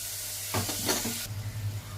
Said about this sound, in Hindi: अब डाल के इसको अच्छी तरह से भून लीजिए, तब तक इसका कलर चेंज होना चाहिए